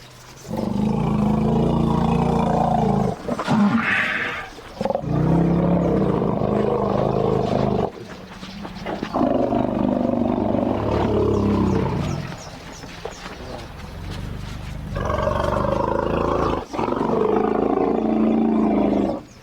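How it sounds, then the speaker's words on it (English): Orphaned elephants greet a returning youngster with long, deep rumbling calls, several loud sustained bouts with brief pauses between them, close by and without speech. "including low-pitched rumbles. These low notes are a greeting."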